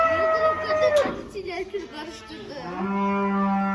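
A cow moos loudly and close, with a long drawn-out low call, while people speak nearby.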